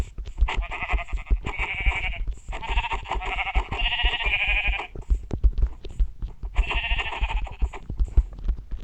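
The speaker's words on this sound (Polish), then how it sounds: "O, owca. Mój ratunek." Repeated bleats from a sheep in Minecraft, a snowy biom setting, come in several wavering calls with short gaps between them, loud and close.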